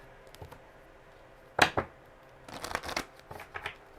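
Tarot cards being shuffled by hand, a few crisp riffling bursts with pauses between, close and fairly quiet.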